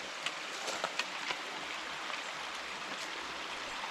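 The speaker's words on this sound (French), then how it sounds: "Le chant de l'eau, c'est magnifique." A stream flows steadily near a hillside castle in the Ardèche, giving a continuous broadband rush of running water with a few faint splashes and clicks early on.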